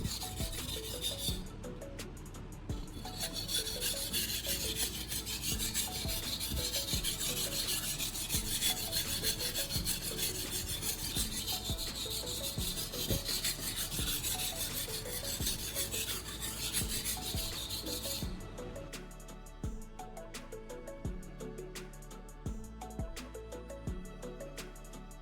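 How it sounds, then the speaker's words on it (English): Steel blade stroked repeatedly on the 1000 grit side of a second whetstone at a clipped angle, a steady close rasping scrape that continues without pause. "I'm switching to the number 1000 grit side of our second whetstone"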